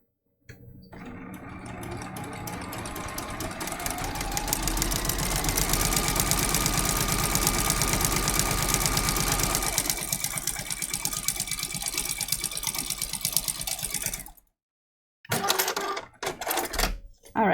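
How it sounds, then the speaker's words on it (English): A sewing machine runs steadily while chain piecing fabric for a quilted journal, a loud continuous mechanical whir lasting over ten seconds before stopping, then brief handling noises. "chain piecing like this will speed up making the journal"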